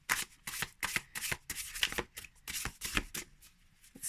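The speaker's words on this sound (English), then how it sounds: "just shuffling it right now, no issue, hand over hand shuffle" Hand over hand shuffling of a large card deck, the Crystalstruck deck, giving a brisk series of crisp riffling and sliding bursts in quick rhythm, close and clear with no talk.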